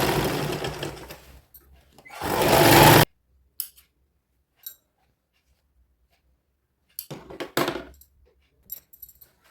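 A sewing machine stitching a seam down the centre of a child's sharara outfit, two close bursts of whirring needle motion separated by a long silence, with small handling clicks between.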